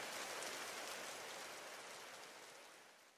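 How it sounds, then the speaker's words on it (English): Steady rain falls in the video game Trails Through Daybreak, a dense, even hiss of drops that stays loud throughout and fades slightly toward the end, with no voices over it. "Why'd it have to rain?"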